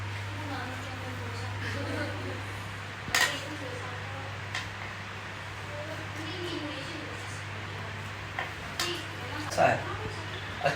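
Cutlery clinks against plates during a meal of fried fish mixed with rice, with occasional sharp taps and scrapes over a steady low hum, while people talk at the table.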